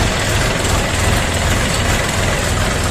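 A DTZ mini tractor diesel engine idles at slightly raised revs, a loud, steady low rumble with continuous mechanical clatter throughout.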